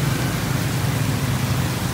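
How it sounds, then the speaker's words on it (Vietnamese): Heavy rain pours steadily in Saigon, a dense, even hiss with a low rumble underneath that holds at the same loud level throughout, with no voices. "Mưa lớn lắm cả nhà ơi"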